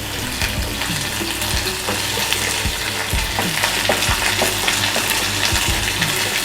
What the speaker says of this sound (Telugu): ఉల్లిపాయలు కడిగిన నీళ్ళు పడ్డట్టు నీళ్ళలో చిటపటా ఉంటుంది.